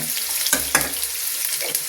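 Sliced onion sautéing in a home kitchen pan, a steady close sizzle with a few stirring scrapes and clinks, no voices.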